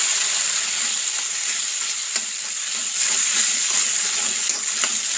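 Boiled chickpeas hiss and crackle in a hot frying pan while cooking a Mangalorean kadle pundi, a steady, dense sizzle that runs unbroken and close throughout, with no voices.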